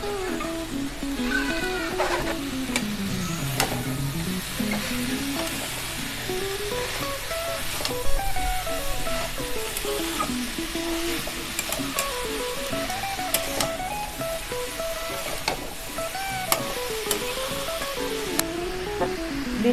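Cabbage tipped into a hot pan fries with a steady, continuous sizzling hiss for the whole stretch, close and even, beneath a melodic music track.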